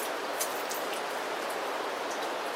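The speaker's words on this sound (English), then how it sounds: "It's another rainy day." Steady rain falls outside on a wet December day, a dense even hiss with scattered brighter drops landing on nearby surfaces, continuous and fairly close with no voices.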